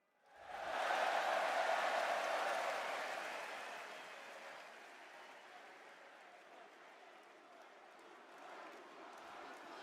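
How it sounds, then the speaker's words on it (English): A packed arena crowd at a WWE Raw wrestling show erupts in loud, sustained cheering and applause that swells quickly, peaks, then settles into a continuous roar. "That's how loud this crowd is."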